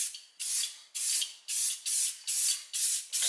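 Aerosol spray paint applied in a light coat to a 1968 Pontiac GTO A-body front end part, six short hissing bursts in a steady rhythm with brief gaps between them.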